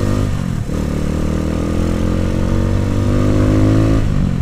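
A Minerva motorcycle engine runs steadily and loud up close, a constant rumbling drone with a brief dip early on, as if during a stiff gear change.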